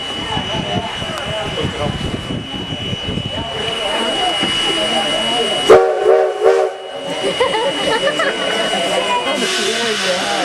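The Virginia and Truckee Railroad steam train runs on its first full revenue service day in 2008, with a loud steady rumble, a sustained whistle tone and a sudden sharp burst midway.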